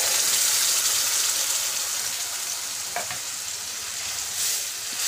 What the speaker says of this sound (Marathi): आता मी ते त्याच्यात टाकते डायरेक्ट.